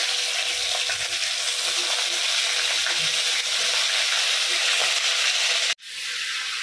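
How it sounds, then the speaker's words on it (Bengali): Marinated crabs drop into hot oil and fry with a steady, loud sizzle that fills the whole stretch, then cuts off abruptly near the end and resumes more quietly. "তেলটা গরম হয়ে গেছে, তেলে আমি দিয়ে দিচ্ছি।"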